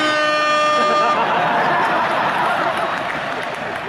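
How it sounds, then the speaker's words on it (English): An air horn blares during a stand-up comedy show, one loud sustained blast for about a second that cuts off into crowd noise and cheering. "That air horn pushed me over the top."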